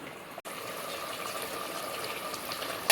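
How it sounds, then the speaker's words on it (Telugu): Mutton simmering in water in a cooking pot, a steady low bubbling and hiss that runs evenly throughout, moderately quiet and close, with no talking. "చూడండి, మటన్ ఉడుకుతుంది. అంటే కొంచెం ఎక్కువ నీళ్ళు ఉన్నాయి."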